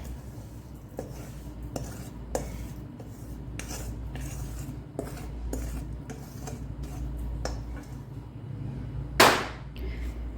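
A spoon scrapes and knocks against a metal vessel in irregular strokes over a low hum while ghughara stuffing is moved into another vessel, ending with one louder clatter.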